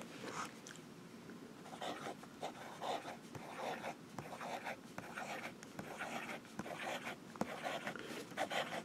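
Celtic wood turned fountain pen nib scratching steadily across paper in repeated quick strokes, close and fairly quiet, with faint low room noise beneath.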